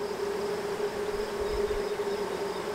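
Honey bees buzzing at a swarm trap as frames are moved to a new hive, a steady, dense drone holding an even pitch, close and continuous throughout.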